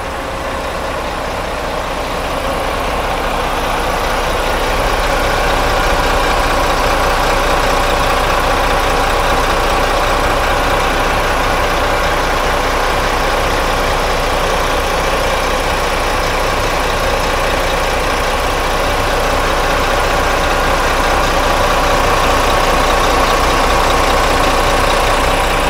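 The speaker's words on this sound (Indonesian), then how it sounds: "Dan seperti inilah untuk suara mesin dari sasis Volvo B11R" A Volvo B11R bus engine idles in a steady, loud, unbroken low rumble heard close up from the engine bay, with no voices over it.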